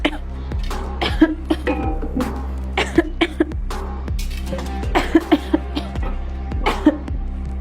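Repeated harsh coughs and throat clearing, a dozen or so sharp bursts in an irregular rhythm, close and fairly loud over a steady low hum.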